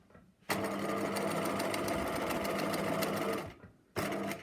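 A sewing machine stitches an elastic channel through two layers of fabric. It gives a steady, close, rapid whirring run of about three seconds, then a short second burst after a brief pause. No one speaks.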